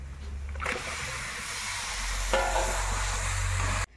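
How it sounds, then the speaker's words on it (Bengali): Washed raw chicken going into a spiced gravy frying in a pan and being stirred, giving a steady close sizzle with wet scraping and splashing; a low hum runs underneath and the sound cuts off abruptly near the end. "এখন আমি ধুয়ে রাখা চিকেনটা দিয়ে দেবো।"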